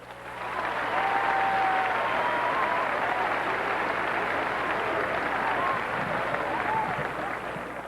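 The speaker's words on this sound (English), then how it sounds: "please give them a round of applause" Sustained audience applause fills a school song contest hall after an evening of class choral singing at Kamehameha Schools, a dense, steady wash of clapping lasting several seconds with faint crowd voices mixed in.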